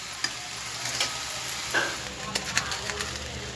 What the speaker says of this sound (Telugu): చికెన్ ముక్కలు వేసాక ఒకసారి కలపండి.